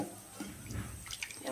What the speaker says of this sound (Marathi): आपल्याला किती पाणी पाहिजे ह्यात मिक्सरच्या भांड्यामध्ये